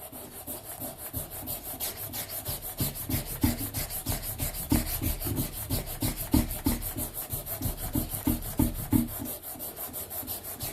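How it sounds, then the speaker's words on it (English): Sandpaper rubs back and forth on an aluminum part, a fast rhythmic scratching of regular strokes, close and steady with no talk. "We'll do a little more sanding on that, and then we'll move up to the next grade of sandpaper."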